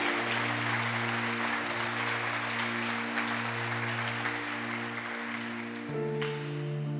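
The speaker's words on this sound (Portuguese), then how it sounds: "Dê mais uma salva de palmas ao Senhor Jesus." Congregation clapping for Jesus during a gospel church service, an even, sustained patter of many hands over steady sustained keyboard chords, with the music shifting near the end.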